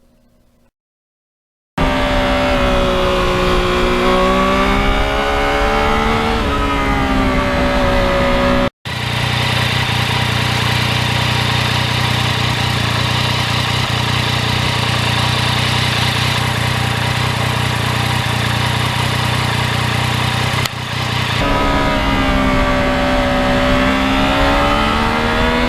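A 2020 Yamaha MT-09 motorcycle engine runs steadily while riding, a loud continuous drone with shifting pitch and a brief dropout partway through, buffeted by wind noise.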